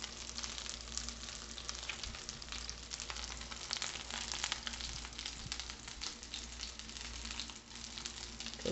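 Salmon cakes, four of them, pan searing over gentle heat, giving a steady close sizzle with dense crackling and spitting throughout, fairly quiet and even with no talking.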